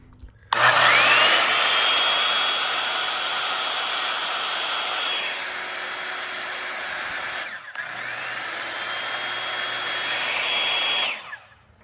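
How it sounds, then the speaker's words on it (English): A DeWalt Professional circular saw, powered from a portable power station, whines loudly at close range through two long runs with a brief drop in between, spinning down at the end. "This is a DeWalt Professional circular saw."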